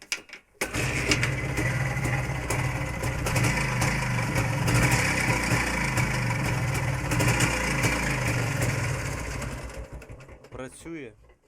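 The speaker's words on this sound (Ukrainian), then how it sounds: "І двигатель запускається дуже непогано" A Jawa 350 motorcycle engine fitted with a test CDI ignition starts and settles into a loud, steady, slightly uneven idle close by, then stops abruptly near the end.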